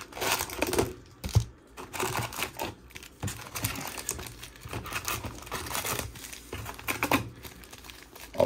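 Baseball card packs from a Chrome Cosmic hobby box are unwrapped and torn open, with close, steady crinkling and ripping of foil wrappers and a few sharper tearing bursts, no talking.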